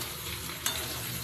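Spices and vegetables are sautéed and stirred in a pan, giving a steady, soft sizzle with one brief scrape of the utensil partway through and no voices.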